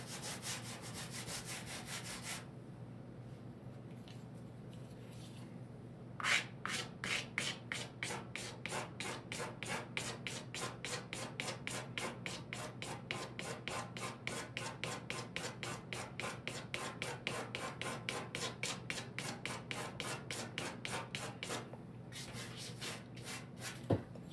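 A pencil scratches rapidly across paper while shading fur texture, a long run of quick, rhythmic back-and-forth strokes, close and fairly quiet, with no talking.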